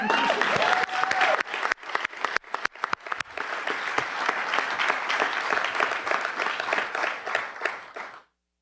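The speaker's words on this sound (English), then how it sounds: "You can clap to that." Applause from an audience at a press conference, a dense, loud burst of clapping that begins sharply and holds steady for about eight seconds before cutting off abruptly.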